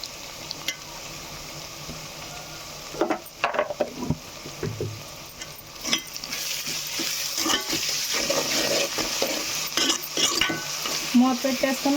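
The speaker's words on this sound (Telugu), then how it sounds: "ఇప్పుడైతే ఉల్లిపాయలో సాల్ట్ వేసుకున్నాం" Onions with salt fry in a pan, giving a steady sizzle punctuated by frequent scraping stir strokes and utensil clinks that grow busier and louder midway, close at hand.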